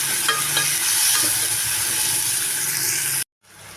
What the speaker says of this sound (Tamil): வெங்காயம் தக்காளியும் நல்லா வதக்கி எடுத்துக்கோங்க